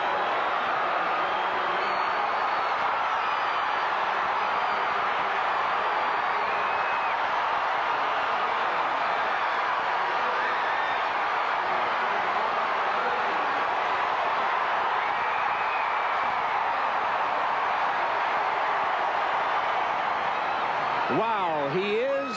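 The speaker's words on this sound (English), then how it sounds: "Let's listen to the crowd take him along." A packed stadium crowd at the 1996 US Olympic Trials roars for Michael Johnson in the 200m, a dense, loud, unbroken cheer that holds steady throughout.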